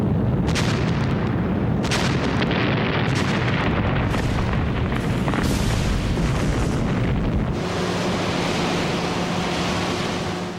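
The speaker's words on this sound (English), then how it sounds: "For a week, the atolls were bombed by carrier-based aircraft." Bombs exploding on Pacific atolls during a 1943 raid by carrier-based aircraft, a continuous roar of heavy, overlapping detonations with repeated booming bursts that stay loud and dense throughout.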